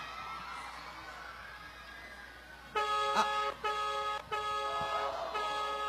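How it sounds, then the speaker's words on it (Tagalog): A car horn honks loudly nearby in several bursts, one long blare followed by shorter toots, over quiet background noise. "Sa tenga ko bumusina, ha?"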